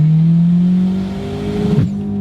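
A Dodge Neon SRT4 ACR engine revs hard under acceleration, a loud rising mechanical whine close up that climbs steadily, then breaks off with a brief rough shift before resuming.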